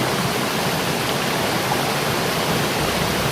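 A creek flows steadily beside the listener, a dense, constant rushing wash of water filling the whole span with no voices or breaks.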